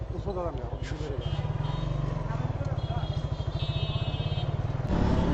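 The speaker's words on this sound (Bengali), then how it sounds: "বাইকে রিসিভ করলাম যাইতেছি এখন" A motorbike carrying a ride-share passenger gets under way, its engine running close with a steady pulsing throb and a rising rev near the end, while voices talk over it.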